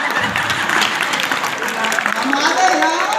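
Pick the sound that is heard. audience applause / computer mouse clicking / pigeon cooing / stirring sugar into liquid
audience applause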